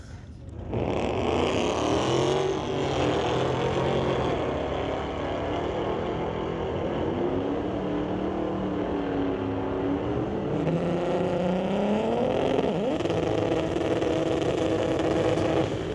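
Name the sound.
2017 and 2019 Dodge cars drag racing, 392 Hemi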